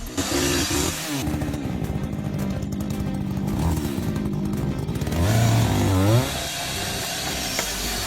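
A chainsaw cutting wood during forestry work runs steadily and loud throughout, its engine pitch dipping and rising under load, with a brief strain near the end.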